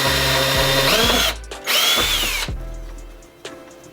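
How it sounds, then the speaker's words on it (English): A power drill bores a hole in a car fender, its loud close whine holding for about a second, dipping briefly, then running again for another second before stopping, leaving a faint tap. "I drilled a second hole right here"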